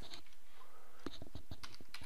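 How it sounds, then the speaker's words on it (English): Someone types a command on a computer keyboard: a quick run of light key clicks, close and clear, with no talking. "So I'm going to type in picture frame"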